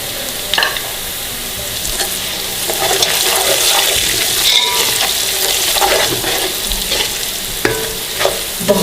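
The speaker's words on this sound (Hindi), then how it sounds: "तो ये सारे मसाले हम इसके अंदर डाल देंगे। इनको भी इनके अंदर फ्राई करेंगे।" Whole spices and coriander powder fry in a pot for beef yakhni pulao, a close, fairly loud sizzle and rush with repeated stirring knocks and scrapes that swells through the middle, with no talking.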